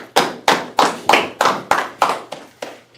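A congregation claps at a Sabbath service in Chicago, about nine loud, sharp claps in a steady, roughly even rhythm, close and with no talking.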